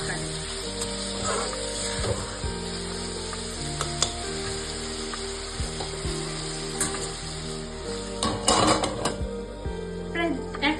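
Spices hiss and sizzle in hot oil after a splash of hot water, a continuous close crackle with scattered metallic scraping and clinks from a covered pan, no talk.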